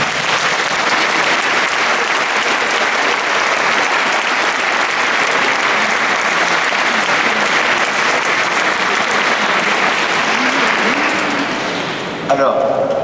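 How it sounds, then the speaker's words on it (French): A conference audience applauds a large group of young attendees, dense sustained clapping from many hands filling the hall, loud and steady before tapering off at the end. "Merci d'applaudir les jeunes qui sont venus très nombreux"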